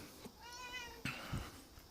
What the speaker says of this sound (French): c'est un chat abandonné, il est adorable